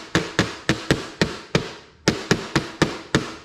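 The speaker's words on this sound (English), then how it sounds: "take my hammer, just try to nail those pieces down a little bit" A hammer nails small wooden pieces down on a beehive inner cover, striking eleven sharp, loud, close blows in a steady rhythm with one short pause midway.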